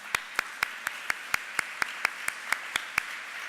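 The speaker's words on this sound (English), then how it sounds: "Please, everyone, another round of applause for Professor Kemp." A steady round of applause for a professor at an arts panel event, about a dozen evenly spaced distinct claps standing out over a quiet room, fairly faint and sparse.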